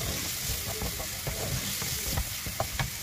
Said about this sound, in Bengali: এর মধ্যে পেঁয়াজ কুচি, তারপর রসুন কুচি দিয়ে ভালো করে নেড়ে বাদামি হওয়া আগ পর্যন্ত নাড়তে থাকবে।